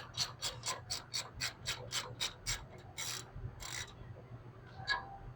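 A ratchet wrench loosening a bolt on a Cummins 5.9 cylinder head: a quick run of about a dozen crisp, evenly spaced ratchet clicks, then a few slower clicks and scraping, close up with no talking.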